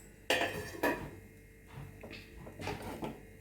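A metal lid clanks onto a cooking pot in a home kitchen while mango dishes are being prepared, two sharp clatters close together, then softer knocks and scrapes, with no talking.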